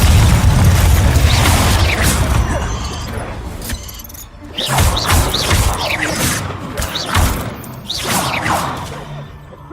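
A Confringo blasting spell in Hogwarts Legacy erupts in repeated booming explosions and whooshes. Loud impacts and crashes keep coming through the stretch, with spell-casting effects and some voices mixed in.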